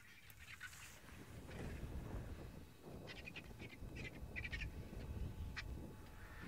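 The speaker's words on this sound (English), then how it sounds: "you can hear them shouting at each other" Vultures squabbling at a wildlife safari site, their harsh calls and hissing scattered over steady wind rumble, moderately distant, with no talk.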